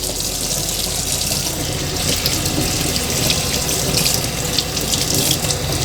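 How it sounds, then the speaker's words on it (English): Warm water runs from a sink tap as baby snakes are rinsed one by one, making a loud, continuous close splashing flow without pause or speech. "we're going to take them one by one and rinse them"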